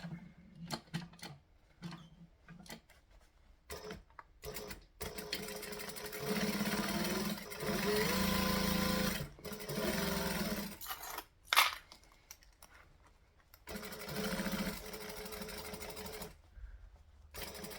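A sewing machine stitches a triangle bag in several bursts of steady running, broken by short pauses and quiet gaps, close and alone with no talking.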